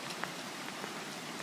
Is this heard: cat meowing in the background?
no